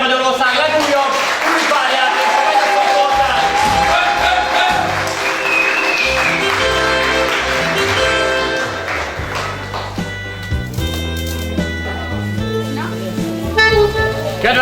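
Applause for newlyweds at a Hungarian wedding reception, sustained clapping from the guests blended with music and an announcer's voice.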